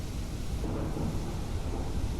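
Thunderstorm in the video game Untamed: a continuous, loud rumbling roll of thunder over steady rain, filling the whole stretch without any talk.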